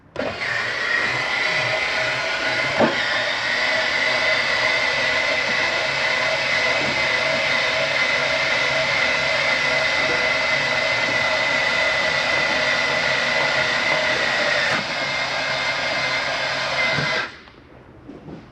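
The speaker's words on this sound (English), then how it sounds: "Run these down on top of those jack pads just until they're taut" The electric motor of the leveling jacks on a 2018 Winnebago 30RLSS RV drones in a steady, loud, close whine as the jacks lower onto their pads, then cuts off abruptly near the end.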